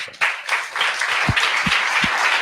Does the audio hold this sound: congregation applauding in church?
yes